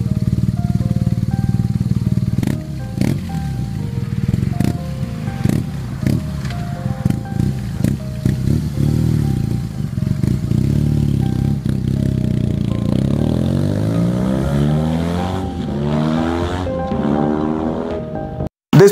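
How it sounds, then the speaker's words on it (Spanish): A boxer flat-twin engine runs with a steady, throaty drone, then climbs through rising revs toward the end before cutting off abruptly. "no puede faltar el sonido del motor Boxer o Flat Twin"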